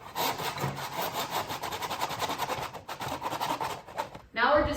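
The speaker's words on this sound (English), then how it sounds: "Grab a piece of sandpaper and just quickly sand it down" Sandpaper rubbed by hand along a wooden cabinet board edge to remove splinters, quick rhythmic back-and-forth rasping strokes close up, ending with a brief louder scrape.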